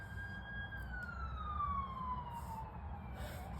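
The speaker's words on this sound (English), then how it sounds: "excuse that siren, I'm gonna let it pass actually." An emergency vehicle siren passes outside, its wail sliding steadily downward in pitch as it goes by, heard faintly at a distance over a low steady rumble of traffic.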